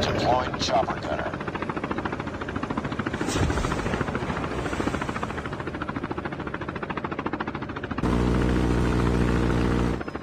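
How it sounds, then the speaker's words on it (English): A stealth chopper in the Call of Duty Mobile video game thrums with steady, loud rotor beating throughout, with game voice announcements over it and a harsh buzzing tone near the end. "Friendly stealth chopper inbound."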